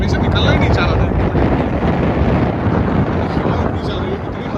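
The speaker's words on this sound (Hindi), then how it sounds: "इतनी हवा चल रही है" Strong wind buffets the microphone at Eden Beach in Pondicherry, a loud continuous roaring rumble with gusty swells and a person talking faintly underneath.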